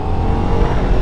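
Steady engine drone of a Ducati Diavel V4 motorcycle heard while riding, a loud continuous rumble with a low throbbing tone and wind noise, no talking.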